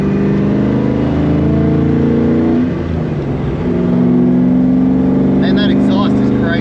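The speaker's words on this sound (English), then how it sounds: "Man, that exhaust is crazy." Restored, mini-tubbed car with a 4-valve engine and a NASCAR exhaust, idling close up with a deep, loud rumbling drone that dips briefly and then surges, with someone talking over it near the end.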